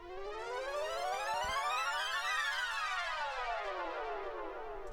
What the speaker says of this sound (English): It's just called whoosh